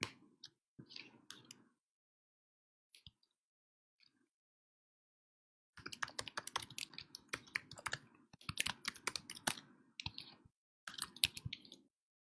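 Keyboard typing on a computer in bursts of rapid clicking keystrokes, close and fairly quiet, with a short pause early on and steadier runs of keys later, no talking over it.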